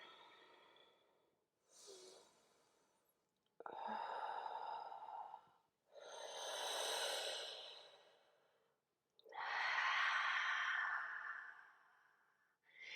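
Slow, deliberate breaths during a kundalini yoga breathing exercise: long rushing inhales and exhales in distinct swells, close and clear, with quiet pauses between and no talking.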